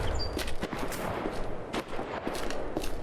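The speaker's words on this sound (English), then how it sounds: "There's bullets going in this direction." Rapid gunfire in the game S.T.A.L.K.E.R. Project Silverfish, a dense run of sharp shots and bursts at moderate distance over a rumbling background.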